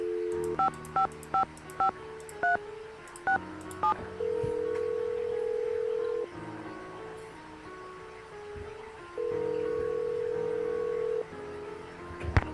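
A telephone being dialed in the Nancy Drew video game Message in a Haunted Mansion: a quick run of crisp keypad tones, then two long steady ringing tones separated by a gap, over faint background ambience.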